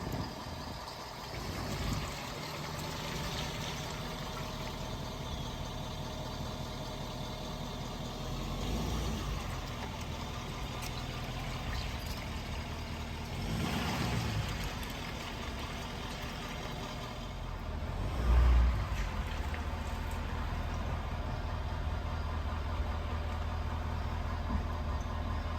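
A truck towing a gooseneck trailer on a long road trip runs steadily, a low continuous engine drone and road rumble heard from inside the cab with slight swells, and no talking.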